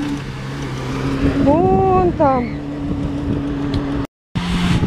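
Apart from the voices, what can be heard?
car engine revving as it drives out of the sand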